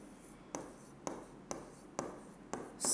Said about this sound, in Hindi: तो लिख देते हैं भाई